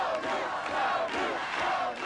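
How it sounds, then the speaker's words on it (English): Thousands of protesters at a rally on a chilly, rain-swept field near the Rocky Flats nuclear weapons plant, jeering and cheering in a continuous, swelling crowd roar. "adults by the thousands came to this chilled, rain-swept field to jeer the weapons plant and cheer those who want it shut down"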